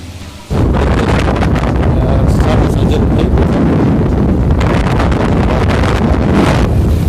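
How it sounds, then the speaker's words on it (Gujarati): Heavy rain in a thunderstorm, heard from inside a moving vehicle, starts abruptly and becomes a loud, dense, unbroken roar of drumming water and rumble that fills the rest of the stretch. "આની પર જોરદાર વરસાદ પડે છે હું જો અત્યારે ચાલુ ગાડીએ છું અને વીજળી પણ થાય"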